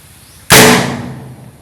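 A Lan Thung bird-scaring cannon fires once, a sudden sharp close blast that trails off in a rumbling decay after a quiet lead-in.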